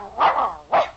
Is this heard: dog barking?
yes